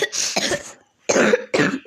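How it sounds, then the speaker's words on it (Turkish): Three harsh coughing bursts, close and loud, the first a double cough, separated by short silent gaps. "Çok kötü öksürüyoruz"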